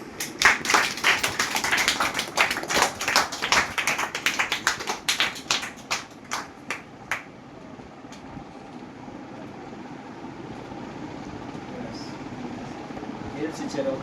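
Applause for a young winner at a chess academy's first tournament: a burst of quick rhythmic clapping that fades after about seven seconds into a quiet room murmur.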